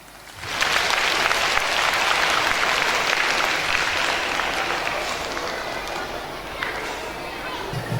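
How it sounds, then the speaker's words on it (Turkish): Audience applause fills a hall as students are invited onstage to sing a hymn at an academy graduation ceremony, rising sharply then holding as a loud, steady wash of clapping that slowly eases, with faint talk underneath. "Alkışlarınızla."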